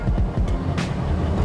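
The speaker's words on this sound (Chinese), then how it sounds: "那 V8 引擎呢，就是大家可以听到有一个低沉的轰轰轰的声音" A deep, rumbling V8 engine idle from a vintage Mercedes-Benz W108 pulses steadily and loudly up close, a throaty low throb with no talking.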